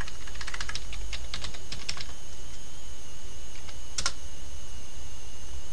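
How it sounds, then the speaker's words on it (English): Keys clatter on a computer keyboard as a terminal command is typed, quick bursts of close, crisp clicks over steady background hiss, followed by a single last keystroke. "you just type in sudo apt get install mplayer"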